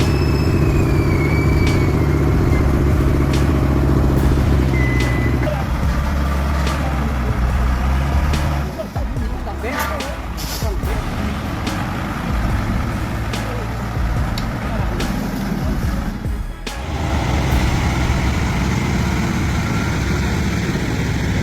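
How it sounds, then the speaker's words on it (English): A heavy truck engine roars steadily with a deep, rumbling drone, thinning out midway before surging back, high whistling tones drifting over it. "The roar of the engine echoed,"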